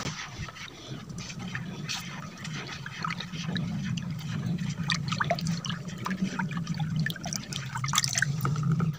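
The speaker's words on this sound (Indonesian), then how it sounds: "Kita beri garam, kita aduk dengan rata." Salt is stirred into homemade JADAM-style liquid organic fertilizer, giving a steady, close sloshing and gurgling of liquid with scattered drips and swirls that build slightly louder toward the end.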